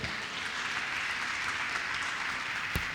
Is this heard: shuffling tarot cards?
no